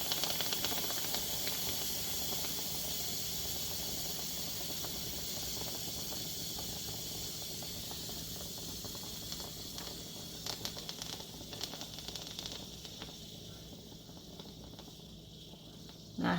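Steady hiss of steam venting from a pressure cooker holding corned beef with cabbage, potatoes and carrots, a constant broad rush at moderate distance that thins slightly toward the end.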